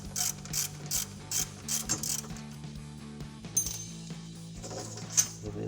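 A ratchet clicks as it loosens a brake caliper nut on a 2015-2023 Ford Mustang, rapid metallic pawl ticks in short bursts close by, over a low steady hum, with a couple of sharper metal clinks near the end.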